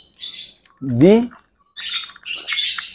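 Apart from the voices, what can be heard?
white-rumped shama (murai batu) calling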